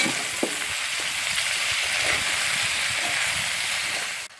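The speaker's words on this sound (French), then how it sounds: "Ensuite on ajoute la tomate. Voilà, et puis on mélange," Tomato fries and is stirred into a chicken combava curry cooking over a wood fire. A steady, close sizzle hisses throughout, with soft scraping stirs and a few small pops.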